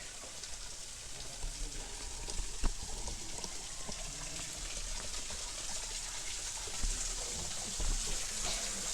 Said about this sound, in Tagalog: May shower pa dito.